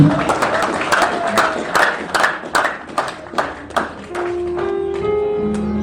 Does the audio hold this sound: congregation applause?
yes